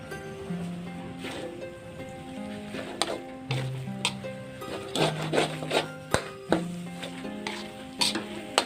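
Steady sizzling fills the background while a utensil scrapes and clatters against a pan in an irregular rhythm, stir-frying kaffir lime leaves for a northern Thai jackfruit salad.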